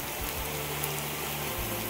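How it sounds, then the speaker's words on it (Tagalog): Heavy rain pours down steadily during a storm, a dense, even hiss with a low rumble underneath and no voices. "Grabe, lakas ng ulan."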